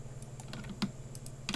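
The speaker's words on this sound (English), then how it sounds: "Gotta watch your fingers on some of those keyboard shortcuts." Quick bursts of clicks on a computer keyboard while working in Blender, with irregular keystrokes and shortcut presses, close and moderately loud against a steady low hum.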